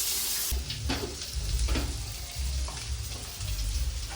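Onions sautéing in a pan give a steady close sizzle with a few scraping stirs, continuous and fairly quiet, with no one talking.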